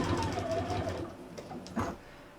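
A sewing machine stitches a fabric glasses case in a short run of quick, rattling needle strokes, then slows and stops near the end.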